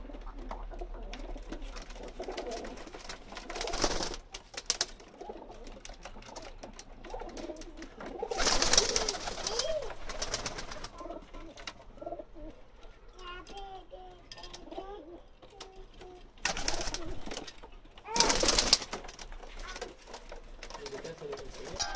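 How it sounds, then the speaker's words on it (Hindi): Soft coos of breeder pigeons murmur in the background with a few louder bursts of rustling or wing noise, fairly close, no voices prominent. "ये सब ब्रीडर कबूतर हैं जी"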